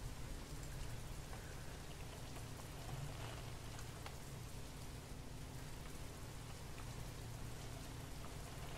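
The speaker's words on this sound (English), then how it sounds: "It's the rain." Steady rain falls in an indie horror burglary game, a dense even hiss of drops with a low rumble beneath, continuous and unbroken with no voices.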